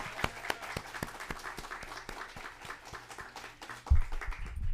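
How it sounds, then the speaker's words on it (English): A small audience at a community media cohort screening gives Jay Amaechi a round of sparse, distinct claps in an uneven rhythm, with a low hum beneath and a brief thump near the end. "All right, a round of applause for Jay Amaechi."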